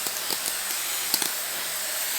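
A spray bottle mists water over freshly planted collard green seeds set under grow lights, giving a steady soft hiss with a few faint spritz pulses throughout.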